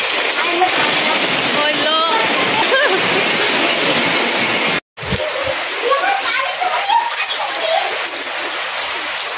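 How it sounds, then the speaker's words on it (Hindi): Heavy rain pouring steadily and loudly close by, with a brief dropout midway and a voice speaking over the downpour. "बहुत तेज़ बारिश है, पूरे साल में अब इतनी तेज़ बारिश हुई।"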